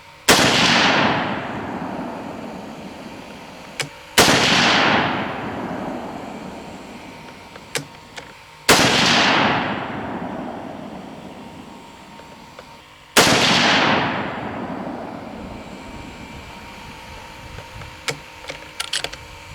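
Four loud 30-06 rifle shots firing 150-grain Hornady SST and 125-grain Speer TNT loads, each a sharp boom with a long decaying echo, spaced about four seconds apart outdoors, with small clicks between.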